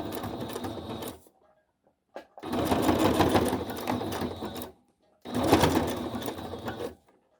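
A sewing machine stitches through a thick handmade playing-card storybook for a junk journal, running in three loud, steady bursts separated by short pauses.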